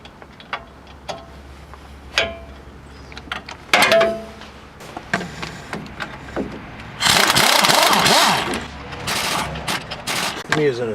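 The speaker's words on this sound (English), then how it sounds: "I'm using a swivel impact to get these off" A swivel impact wrench rattles in short bursts and then one longer run of about two seconds while loosening the lug nuts on a Ford F150 wheel. Scattered clicks and tool clatter fill the gaps, close by.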